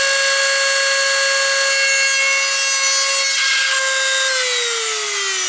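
A Chinese petrol brushcutter is worked on with a power tool, giving a loud, steady high-pitched whine with strong harmonics that holds constant, then drops in pitch near the end as it bogs under load.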